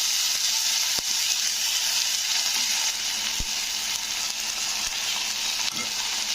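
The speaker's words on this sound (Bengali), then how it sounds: "আদা রসুনের পেস্টটা দিয়ে একটু নাড়তে হবে যতক্ষণ না আদা রসুনের গন্ধটা কেটে যাচ্ছে" Ginger garlic paste fries in a pan for a freshwater catfish curry, making a loud, continuous hissing sizzle close by, with a few sharp clicks from stirring.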